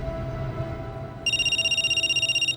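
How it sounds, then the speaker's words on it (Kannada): A telephone rings in a dramatized audio story: a steady electronic warbling ringtone starts abruptly about halfway through and pulses rapidly and evenly, close and clear over a low background hum. "ಅವನ್ ಫೋನ್ ರಿಂಗ್ ಆಯ್ತು"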